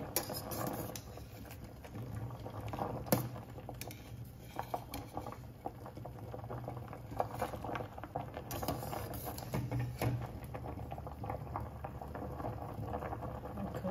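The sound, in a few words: potatoes boiling in a pot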